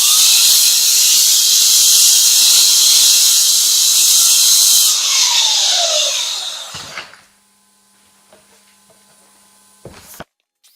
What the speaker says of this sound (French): je reprends ma ponceuse à bande pour affleurer